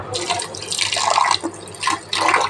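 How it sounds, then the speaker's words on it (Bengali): Grated potato being washed with water, with close splashing and sloshing bursts as it is rinsed by hand, coming in uneven surges with brief pauses. "এবার একটু জল দিয়ে ধুয়ে নেব"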